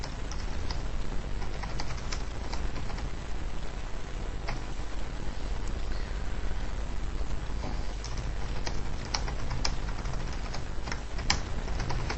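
Continuous typing on a computer keyboard as a statement is entered, dense irregular key clicks running steadily for about twelve seconds at an even level, with no talk.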